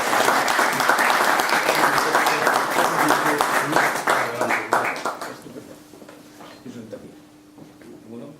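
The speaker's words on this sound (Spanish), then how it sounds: "pido un aplauso para ellos" A hall audience at a book presentation in Novelda breaks into dense, loud applause that fades out over several seconds, leaving a quiet room with faint murmuring at the end.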